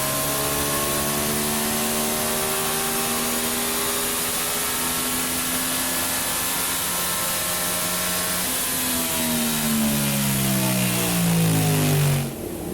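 Aprilia RS660 motorcycle engine with a Rapidbike module and Jetprime parts, revving hard and sustained on a dyno, a loud rising whine that climbs in pitch and then drops off at the end.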